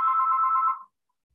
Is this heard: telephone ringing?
yes